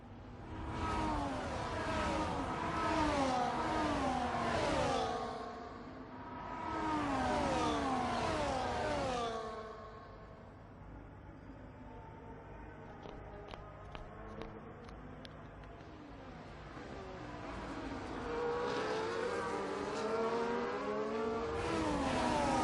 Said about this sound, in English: now we have to listen to this god-awful engine